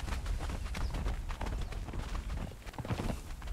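Horse hooves gallop steadily in the video game Conan Exiles, a continuous fast clatter of hoofbeats heard fairly faintly with no talk over it.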